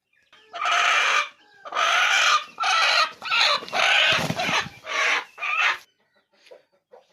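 A broody Peruvedai hen clucks in a run of loud, close, drawn-out bursts, one after another, then trails off into a few faint clucks.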